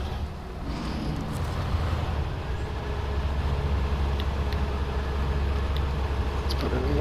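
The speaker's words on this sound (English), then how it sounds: "We're going to try to pull this train." In SnowRunner, a stock truck in low gear strains to pull a train, its engine droning low and steady under continuous rumbling with a few faint clanks.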